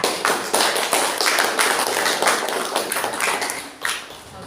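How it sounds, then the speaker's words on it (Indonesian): A classroom group claps for a student team after a chemistry presentation, a short burst of close, uneven hand claps with rhythmic accents that thins out toward the end. "Tepuk tangan untuk mereka."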